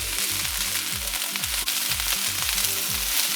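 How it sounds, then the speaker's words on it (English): Cabbage sizzles in a hot pan while being stir-fried for vegetarian rice noodles, a steady loud hiss with rhythmic scraping strokes of the spatula repeating about every half second. "And add the cabbage. Give that a stir."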